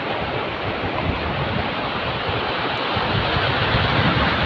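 A Himalayan mountain stream near Gomukh rushes loudly and steadily in a broad, continuous roar of flowing water, mixed with cold wind and no voices.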